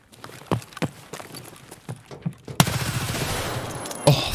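Shotgun blasts in an Escape from Tarkov Labs raid: a few sharp, loud reports, then a dense burst of heavy gunfire with another close blast near the end, with scattered footsteps and movement between the early shots.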